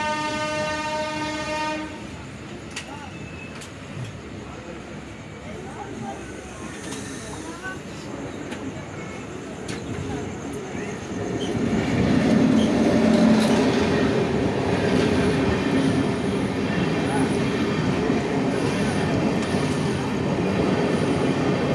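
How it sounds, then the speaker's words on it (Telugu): A passenger train pulls into a station, a horn sounding briefly at the start before a steady rumble and wheel noise build and grow louder as it comes closer. "ట్రైన్ అయితే వస్తుంది."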